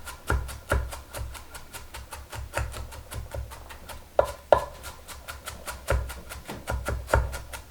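A knife mincing broccoli on a cutting board for a cream of broccoli and cheddar soup, a close, quick run of crisp chops in a steady rhythm of roughly three strikes per second, with a couple of sharper knocks midway.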